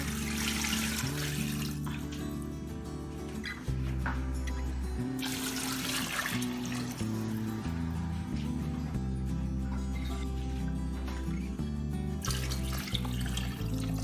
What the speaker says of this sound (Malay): And after that, we're going to pour in our water.